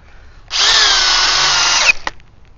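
A Metabo HPT DV36DC cordless drill bores a 3/8 by 6 inch hole in second speed, one loud steady whine lasting over a second that cuts off sharply, followed by a brief clatter.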